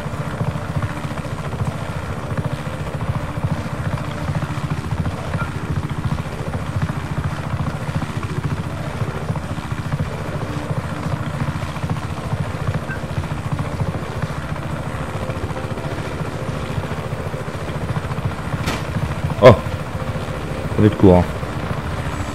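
A helicopter in the video game Just Cause 3 flies with a steady, droning rotor and engine hum that runs throughout, someone talking over it and a few sharp clicks near the end.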